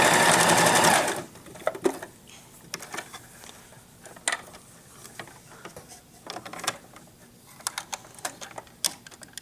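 Sewing machine stitching fabric for a duck pillow, a loud, dense continuous run for about a second, then stopping, followed by scattered faint clicks and handling noises.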